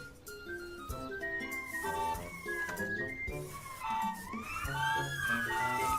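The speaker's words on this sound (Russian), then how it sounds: "радиоуправляемая скорая помощь." A toy radio-controlled ambulance in a children's cartoon game wails a quiet, warbling siren against busy game music and effects.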